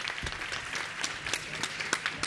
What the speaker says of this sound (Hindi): एक बार उनके लिए अच्छे से ताली बजाएं।